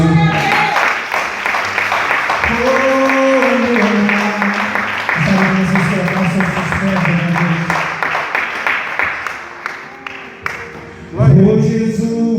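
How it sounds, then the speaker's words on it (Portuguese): A congregation at an evangelistic church service applauds, a steady wash of clapping heard under loud preaching, with a voice speaking and calling out over it throughout. "Vocês podem aplaudir o Senhor."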